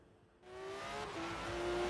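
A Porsche Cayman GTS in Forza Horizon 3 pulls away from near silence, its engine swelling into a loud, rising whine as it accelerates, with no talk.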